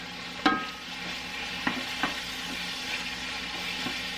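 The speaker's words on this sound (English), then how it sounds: "I do want this very well cooked, this beef" Ground beef frying in a pan, a continuous close sizzle broken by a few spatula scrapes and taps as the meat is stirred, no voices.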